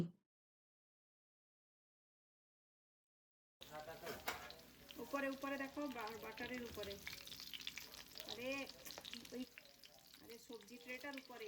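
Food frying in a small flat pan, starting after several seconds of silence with a steady sizzle and crackle, and a voice heard faintly over it now and then.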